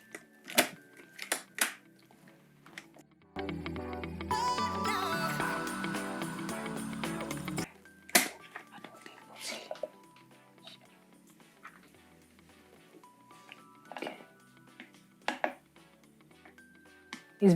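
A blender grinds soaked beans with a little water for moin moin, running loud and steady for several seconds before stopping, with kitchen clatter and brief knocks around it.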